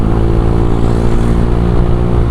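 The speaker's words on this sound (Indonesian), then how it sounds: "gokil, enak banget ini knalpotnya" A motorcycle fitted with a ZRC aftermarket exhaust is held at a loud, steady rev, a dense, throaty engine roar close to the microphone with no voices.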